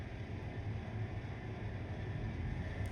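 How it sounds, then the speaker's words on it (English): A train rolls past in the railway simulator game Train Life, a faint, steady low rumble and hum lasting throughout with no voices over it. "let's just let this train go past us first"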